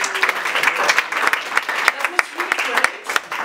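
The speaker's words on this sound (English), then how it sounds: "Applause." An audience claps after a poetry reading at a European poetry festival. The applause is loud, close and full, with crisp individual claps standing out, and a few voices are heard underneath.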